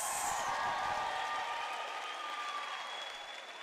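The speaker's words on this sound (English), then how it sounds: "May we give our academics a round of applause." Audience at a university autumn graduation ceremony applauds in a broad, even rush of clapping that fades gently toward the end, heard alone without talking.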